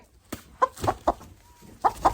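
A pet house-kept pullet hen clucks in short, separate bursts, about six clucks spaced irregularly, fairly close and clear with no talking.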